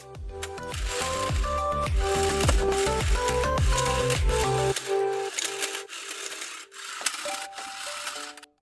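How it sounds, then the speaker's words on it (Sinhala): A cinnamon rubbing machine polishes a fully peeled cinnamon stick, a loud, rhythmic mechanical grinding and scraping with repeated strokes that drops to a quieter rasping partway through, with no voices. "කුරුඳු මදින මැෂින් එක අරගෙන ඉවර වෙලා අපි මේක හොඳින් මැද ගන්නවා"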